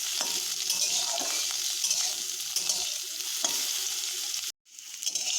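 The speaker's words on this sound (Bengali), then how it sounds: "দেখুন করলাগুলো আমরা হালকা করে ভেজে নিয়েছি।" Bitter gourd pieces sizzle steadily in a hot pan while a utensil stirs them, producing a loud, continuous hiss with faint scraping, then a brief break before the frying resumes.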